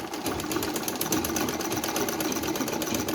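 A knitting-machine sewing machine stitching a knitted baby trouser piece runs steadily with a rapid mechanical chatter, close and continuous for a few seconds without talk.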